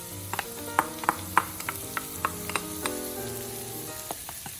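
Onions and celery sizzle in melted butter in a pan used for sausage herb stuffing, a steady close frying hiss broken by sharp crackles and pops as the vegetables are stirred, with no talking.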